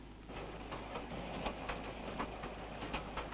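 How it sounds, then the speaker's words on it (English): The royal train rolls over rails through the sheep-raising country of Hawke's Bay, New Zealand, in 1953, a steady rumbling hiss with faint rhythmic clicks of wheels on track joints. "the train moves through the rich sheep-raising area of Hawke's Bay"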